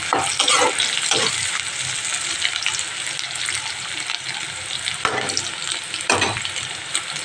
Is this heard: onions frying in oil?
yes